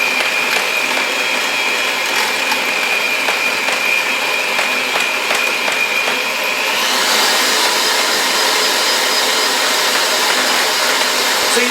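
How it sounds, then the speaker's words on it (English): An electric mixer creams chocolate cake batter with a steady, loud whirring whine that rises in pitch and intensity partway through as the speed is increased. "I'll speed up my mixer a little bit."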